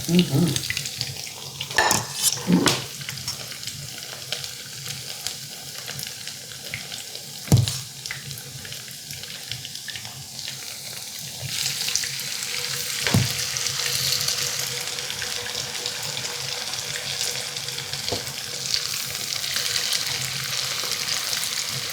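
Potato pancakes frying in a pan, a steady crackling sizzle with occasional sharp clinks of a utensil, growing fuller and more hissing toward the end.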